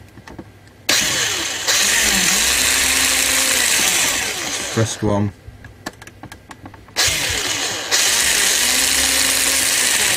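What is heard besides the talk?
drilling holes in Amiga 600 case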